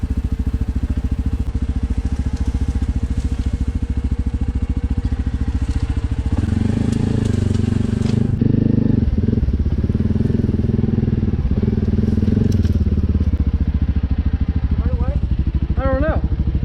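A four-wheeler ATV rumbles steadily while riding over rough terrain, its engine loud and constant with bumps and clatter, and voices talk over it in stretches.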